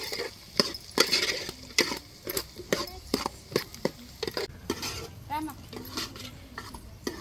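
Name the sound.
stirring drumstick pieces into mutton curry in a pot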